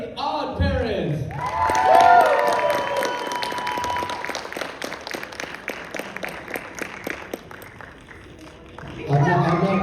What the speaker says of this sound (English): give a big round of applause for the cast of Fairly OddParents